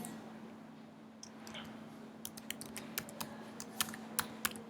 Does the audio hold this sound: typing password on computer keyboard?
yes